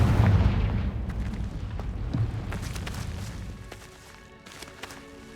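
A Confringo blasting spell explodes in Hogwarts Legacy with a loud, deep boom at the start, then a rumbling tail with scattered crackles that slowly fades, with no voices.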